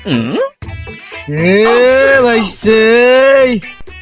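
A cow moos loudly and close by in long, drawn-out calls, one short call followed by two sustained bellows, with brief pauses between them.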